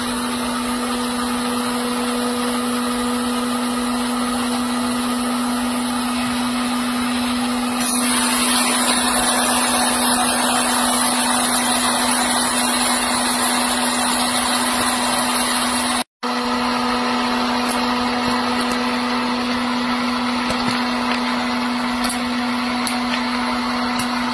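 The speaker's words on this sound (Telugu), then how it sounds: "ఇదిగోండి, పాప్కార్న్ అయిపోయి ఎట్లా కొడుతుందో చూడండి మిషన్" An electric plug-in popcorn machine runs with a loud, steady motor whir and hiss that shifts in tone partway through and cuts out for a moment before resuming, with only faint scattered ticks of kernels.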